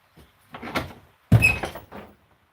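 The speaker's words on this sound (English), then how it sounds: "Oh, it's the door." A house door opens with a thud followed by a scrape, clattering close by after a brief earlier creak, on a rainy day at home.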